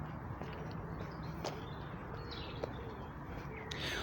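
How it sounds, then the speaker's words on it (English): Soft, low pigeon cooing repeats faintly against a steady outdoor background, with a few light rustles and footsteps nearby. "Is that pigeon that's making that noise?"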